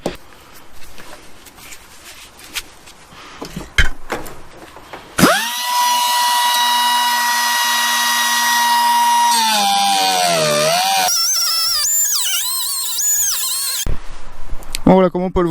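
A power tool cuts into a car body floor panel, its loud steady whine holding for several seconds before wavering and squealing, framed by clanks and handling noise on either side.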